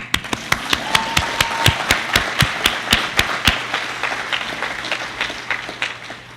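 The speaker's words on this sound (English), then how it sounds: "You can applaud now" The audience at a university State of the University address claps in a steady, rhythmic pattern of distinct sharp claps that gradually thins and fades toward the end.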